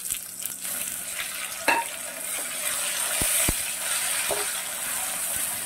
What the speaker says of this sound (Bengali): পেঁয়াজ, রসুন, টমেটো এগুলো একটু ভেজে নিয়ে